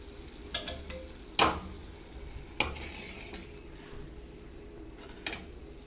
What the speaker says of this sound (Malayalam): ഇനി അടുത്ത സെറ്റും ഇതുപോലെ അങ്ങോട്ട് ഫ്രൈ ചെയ്തെടുക്കാം